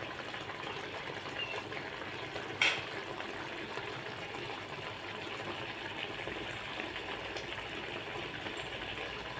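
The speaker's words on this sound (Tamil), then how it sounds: "ஓரளவுக்கு கொதிச்சா போதும் ரொம்ப கொதிக்க வேண்டியதில்லை" A pot of appalam curry bubbles and simmers steadily at close range, a soft continuous boiling hiss with one brief clatter partway through.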